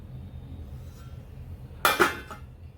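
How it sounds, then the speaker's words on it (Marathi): A lid set onto a pot of carrot halwa cooking on the stove: two sharp metallic clinks in quick succession, close and fairly loud, over a low kitchen hum, with no voices. "त्यावरती झाकण ठेवते"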